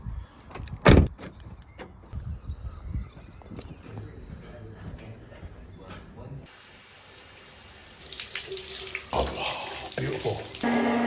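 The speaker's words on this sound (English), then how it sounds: "that's a shower done here at Penzance Leisure Centre" A shower at Penzance Leisure Centre in Cornwall runs water steadily, starting faint with a few knocks and a loud thud, then swelling into a bright, hissing spray that dominates the second half.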